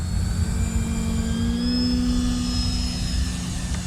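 An RC Turbo Timber Evolution floatplane on floats taking off, its electric motor whining steadily with a rising pitch as it climbs, heard continuously and fairly close throughout.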